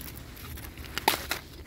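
Fresh asparagus spears snapping by hand: one crisp, sharp break heard close, with a couple of softer cracks and faint background rustle around it.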